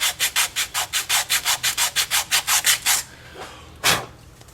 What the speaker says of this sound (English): You can take a little bit of crocus cloth like I'm about to, or a piece of sandpaper, and clean that up